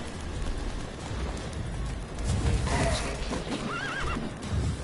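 Roach, the horse in The Witcher 3, whinnies loudly over a continuous rumble of hoofbeats and trotting, with a rising-and-falling neigh standing out near the end.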